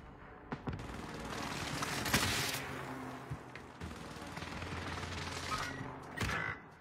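Quiet video game shots and distant gunfire pop intermittently over a low rumbling background, fairly faint throughout.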